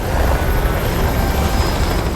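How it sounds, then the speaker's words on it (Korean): A helicopter holds steady nearby in a rural cattle-ranch setting, its dense, even rotor and engine roar filling the whole clip with no breaks and no voices. "헬리콥터 소리가 들립니다."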